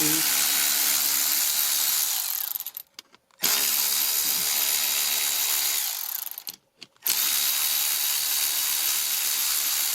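Power tool, likely an impact driver or drill, removing bolts from the door of a 1996 Honda Odyssey during a power window motor replacement; loud continuous whirring broken by two short pauses.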